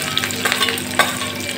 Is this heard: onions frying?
yes